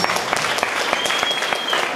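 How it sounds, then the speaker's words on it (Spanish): Applause for young performers in a bell music program for people with disabilities: a short, lively run of close hand clapping from a small group, with a faint thin tone lingering in the background. "un aplauso para los muchachos"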